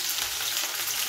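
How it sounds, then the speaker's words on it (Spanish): Onion frying in a couple of teaspoons of oil in a pan, a close, steady crackling sizzle that continues evenly throughout with no talking. "primero vamos a ir friendo esto porque se nos va a pasar el aceite"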